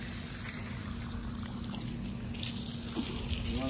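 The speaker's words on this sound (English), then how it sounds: "But let me put the water hose that way." Water runs from a garden hose in a backyard with a soft, steady hiss and trickle, fairly faint and continuous, with a slight splash near the end.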